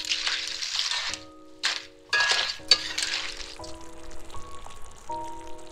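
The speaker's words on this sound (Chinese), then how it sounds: "只要翻炒一下" Clams being stir-fried in sauce in a wok give off choppy bursts of close sizzling and tossing, stopping and restarting over a few seconds, with soft tonal music underneath.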